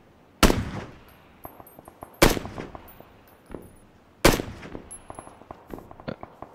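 Gunfire aimed at the player in a first-person shooter: three loud, sharp shots spaced about two seconds apart, each ringing off, with smaller clicks and pops between and no talking.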